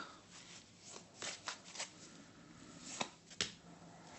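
Tarot cards being shuffled by hand to draw an outcome card: a run of quick riffling, flicking card sounds, close and fairly soft, with a couple of sharper snaps near the end and no talk.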